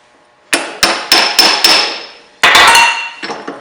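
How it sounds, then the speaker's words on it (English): A hammer drives a punch to seat wheel bolts into a brake hub flange, giving a series of sharp, close metallic strikes, five in quick succession, then a pause and a few more blows. "We'll take a punch and punch them back into place."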